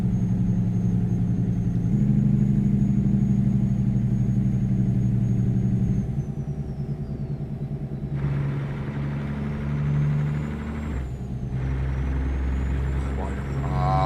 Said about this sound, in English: I love this new engine sound mod. This is so much nicer.